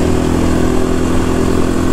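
Quad bike engine droning steadily while being ridden over bumpy ground, a loud continuous mid-pitched hum close to the rider with no break, no other voices heard.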